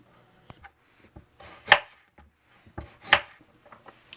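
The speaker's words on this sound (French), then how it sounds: "je vais découper les carottes maintenant" A knife chops carrots on a cutting board, with a few soft taps followed by two sharp, loud cuts spaced about a second and a half apart. The cuts are close and heard alone, with no talk.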